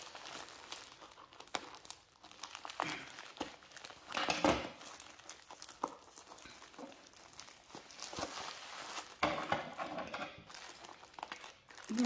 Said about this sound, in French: désolée s'il y a des bruits de plastique